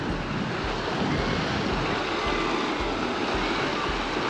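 Sea waves wash steadily onto a beach at Gokarna, a continuous broad roar of surf with some wind buffeting the microphone and no one speaking.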